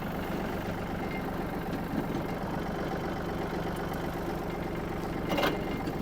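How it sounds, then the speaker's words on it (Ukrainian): A Yanmar AF-26 mini tractor engine idles steadily at close range, a continuous low rumble with a brief louder swell near the end. "давайте з вами послухаємо на роботу його двигуна"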